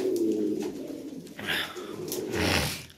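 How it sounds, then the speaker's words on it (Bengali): Lahori pigeons at a pigeon market give soft, throaty coos in a close, repeated series, rising and falling over a low murmur of background noise, with no talk. "অনেক কবুতর আছে।"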